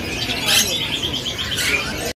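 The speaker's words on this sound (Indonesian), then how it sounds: "Bimoli trotol jantan." A male trotol songbird in a bird shop gives a continuous run of bright, rapid, high chirps and trills, loud and close for a couple of seconds.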